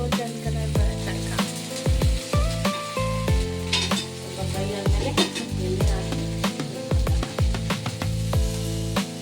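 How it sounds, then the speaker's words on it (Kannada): Okra (lady's finger) fries in a pan for a home family lunch, with a steady loud sizzle and repeated metallic clinks and scrapes of a utensil stirring, close up, with no talking. "ಸೊ ಈ ಕಡೆ ಬೆಂಡೆಕಾಯಿ ಫ್ರೈ ಆಗ್ತಾ ಇದೆ."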